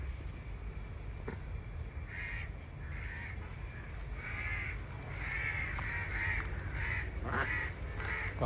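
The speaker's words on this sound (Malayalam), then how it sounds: "കാക്ക എന്ത് ശല്യമാണല്ലേ" Crows caw repeatedly at a farm in sunny weather, harsh calls coming in irregular bursts over a steady background hum, moderately near, with no talking.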